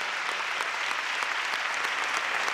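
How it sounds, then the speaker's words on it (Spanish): Audience applause for eight drag queen contestants at a drag gala in Arrecife, a steady dense clapping that stays loud and even throughout with no voices over it. "el cariño y el aplauso para los 8 drag participantes"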